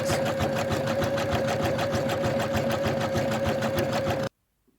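An embroidery machine stitches the edge of an in-the-hoop zipper bag with a rapid, steady mechanical chatter and hum, close and loud, before stopping abruptly into silence.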